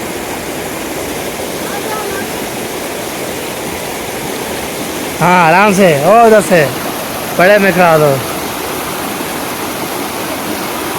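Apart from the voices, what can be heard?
river water falling from above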